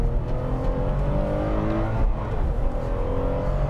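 Toyota Mark X GRMN engine revving while driving, a loud, steady drone whose harmonics climb and dip with the throttle, heard from inside the cabin with no talking.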